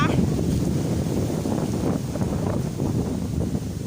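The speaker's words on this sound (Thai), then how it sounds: "ตอนนี้ลมพัด พัดอย่างแรงเลยนะคะ" Gusty storm wind roars and rustles across the microphone in uneven surges, loud and close throughout, on a rural farm with trees.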